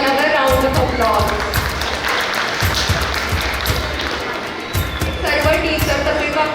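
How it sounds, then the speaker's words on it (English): Sustained audience applause fills the hall at the Kingswood School gathering, a dense, steady clapping wash that swells and dips slightly, with a voice speaking over it now and then. "Give another round of applause."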